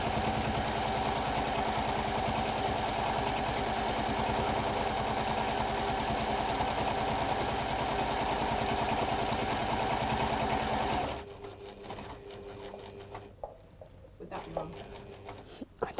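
A sewing machine stitching down one side of fabric runs in a fast, even mechanical whir for about eleven seconds, then stops, leaving quieter room sounds and light handling noises.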